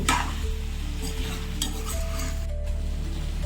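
Chicken pieces with onion and spices are stirred in a sizzling pan, a spoon scraping and clinking against the metal over a steady, close frying hiss with no talk.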